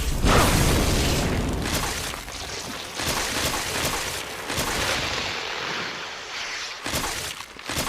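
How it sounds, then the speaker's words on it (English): Gunshots fired at Plant 42 in Resident Evil HD Remaster, a series of heavy, booming blasts spaced every second or so, loud and close, each followed by a short rumble, with no talking. "Now we'll just shoot it with Chris and then that'll be done."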